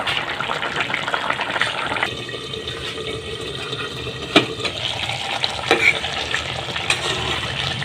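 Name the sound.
Assamese fish curry with turoi simmering in pot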